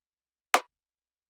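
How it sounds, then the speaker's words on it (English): A dry rim shot drum sample for an R&B snare sounds as one sharp, clicky crack in silence, followed by the start of a second hit right at the end. "And for the snare, I have this rim shot"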